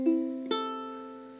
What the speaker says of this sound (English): Standard uke tuning sounds, with a high G, sounds like this.